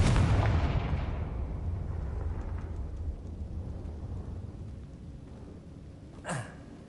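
Confringo fire spell blast in Hogwarts Legacy: a loud low boom at the start that decays into a long rumbling tail, then a short whooshing sweep near the end.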